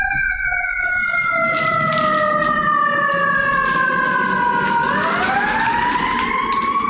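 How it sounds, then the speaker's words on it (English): An ambulance siren passes on a New York City street, its loud wailing tones sustained and then dropping in pitch as it goes by over steady traffic hum. "there's an ambulance passing by."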